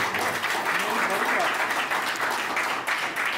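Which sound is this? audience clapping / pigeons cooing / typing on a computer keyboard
audience clapping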